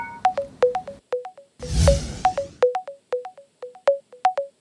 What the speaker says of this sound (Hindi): कौर को फोन लगाया जाए।